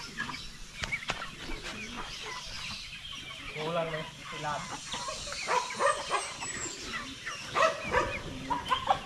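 Chickens clucking and squawking in a rural yard as people try to catch them for butchering, continuous agitated calls with a rooster now and then, mixed with people talking and moving around.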